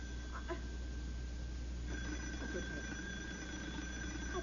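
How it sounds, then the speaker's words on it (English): A telephone rings in short bursts against a steady low hum, faint and slightly distant, with no voices over it. "It's just the phone."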